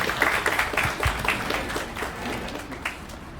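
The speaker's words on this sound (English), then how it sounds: "Another round of applause, ladies and gentlemen." Audience applause at a formal launch event, a moderate crowd clapping steadily for a few seconds with scattered sharper claps, slowly thinning out toward the end.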